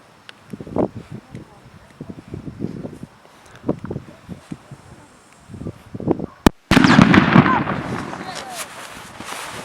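A viewer's firecracker goes off in a single sharp, loud bang, preceded by soft rustling and handling noises and followed by a burst of crackling debris and hiss.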